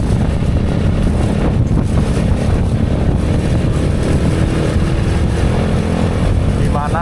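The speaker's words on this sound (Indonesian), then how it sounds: "Jadi ini bukan sekedar angin motor, tapi emang tuh lihat pohon-pohonnya pada goyang semua karena emang sangat berangin." Strong wind buffets a DJI Action 4 camera's built-in microphone on a moving motorcycle in a loud, constant roar, with the motorcycle engine droning underneath throughout.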